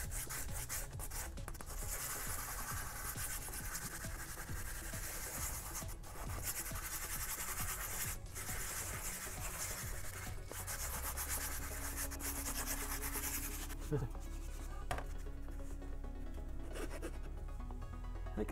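A ridge on handmade Boba Fett armor is smoothed down by hand, giving a faint, continuous back-and-forth rubbing and sanding scrape up close, with no talk.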